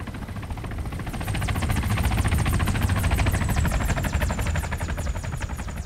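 Helicopter in the video game Arma 3, a loud steady rotor thump with rapid regular chopping and a high engine whine, sustained and close throughout.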